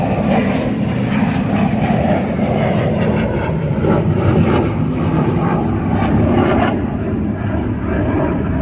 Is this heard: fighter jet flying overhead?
yes